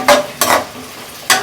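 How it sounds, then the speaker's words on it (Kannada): Half an onion fries in a pan for chicken biryani. A spoon scrapes and stirs through it in three quick bursts over a steady, close sizzle. "ಅರ್ಧ ಈರುಳ್ಳಿ ಫಸ್ಟ್ ಹುರ್ಕೊಳ್ಳೋದು"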